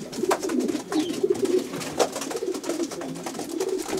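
Racing pigeons in a Romanian loft coo in low, soft repeated phrases over a constant background murmur of many birds.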